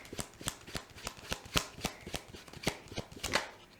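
Tarot cards shuffled by hand for a pick-a-card reading, a steady run of close, crisp riffling slaps about three or four per second, quiet and with no talk.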